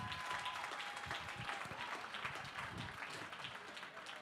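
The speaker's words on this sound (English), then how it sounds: "would you give Gwen a big round of applause?" An audience applauds photographer Gwendolyn Eminger at a benefit event, giving steady, moderately distant clapping that holds throughout without a break.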